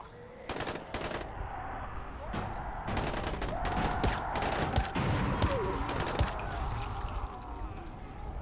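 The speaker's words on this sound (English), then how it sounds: "Does them shooting attract the zombies too?" Gunfire rings out in the zombie game Dying Light at hard difficulty. Rapid, overlapping shots come in repeated bursts at moderate distance, mixed with other game noise and a faint voice.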